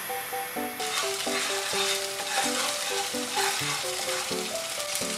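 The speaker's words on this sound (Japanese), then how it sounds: "いつものフライパンでニンニクから炒めていきます" Garlic frying in a pan gives off a steady, close crackling sizzle with occasional stirring, running continuously under light background music.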